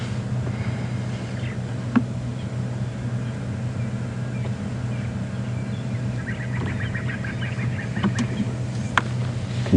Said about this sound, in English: You can hear quite a few francolins calling.